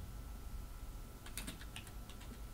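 Quiet computer keyboard typing during a word-processing lesson, a short cluster of light key clicks in the second half over a faint steady background hum.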